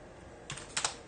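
A few light keystrokes tap on the keyboard of an FPGA-based Sinclair Spectrum, a short cluster of soft clicks close by and quiet.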